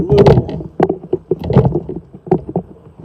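A small boat on a river, worked backward with the feet, sounds as a run of knocking, splashing bursts and hollow bumps of the hull against water, close and uneven, with no talk.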